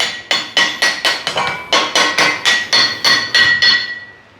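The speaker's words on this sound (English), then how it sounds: "I have gone over every inch of this anvil with a ball peen hammer" A ball peen hammer strikes a new steel anvil about fifteen times in a steady rhythm, each blow a loud, bright ringing clang that decays quickly before the next.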